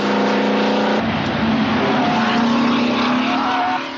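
A vintage Grand Prix racing car engine drones steadily while driving, a loud continuous roar with a pitch shift partway through as it changes speed, filling the clip and easing off slightly at the end.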